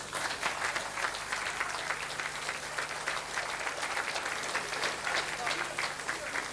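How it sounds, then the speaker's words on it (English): An indoor crowd at a 1988 Mayo boxing championship night applauds a champion with a dense, sustained clapping that holds steady throughout, and a voice can be heard under it. "please give a round of applause to a great champion, John Mclaughlin from Ballinroe."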